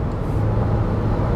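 Steady broadband wind rush from the mirrors of a retro Toyota Land Cruiser cruising at about 50 mph, a constant loud roar with low road drone underneath and no talking.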